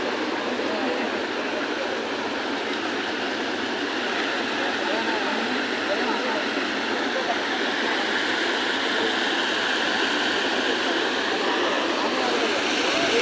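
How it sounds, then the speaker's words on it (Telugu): Water rushes out through a breach in the Bhadrakali lake embankment in a loud, unbroken roar that holds steady from start to end, like a close torrent. "సో చూశారు కదా ఇది వాటర్ ఫ్లోయింగ్"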